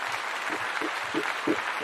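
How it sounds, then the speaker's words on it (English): Clapping from a small group in a talk-show studio, a brief, moderately loud patter of claps with a faint low thudding underneath. "Clap up real quick"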